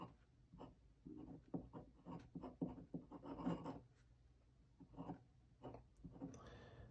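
Pen writing a branched alkane chemical name on a board, a quiet run of short scratchy strokes and taps close by, with no talk.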